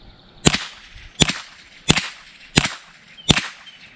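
Five .22 rifle shots with standard-velocity ammunition through a Yankee Hill Machine Phantom 22 suppressor crack in a steady rhythm, a little under a second apart, sharp and fairly loud with brief reverberant decay.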